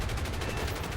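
A P-40E-1 Kittyhawk's .50 cal machine guns firing in War Thunder, a rapid even stream of heavy shots in one continuous loud burst.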